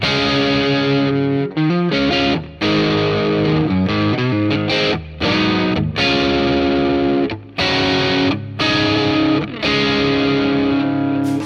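A heavily distorted electric guitar, a 2013 Les Paul Signature T with Bare Knuckle Nailbomb pickups, plays chugging high-gain chords and riffs, loud and saturated, with brief stops between phrases.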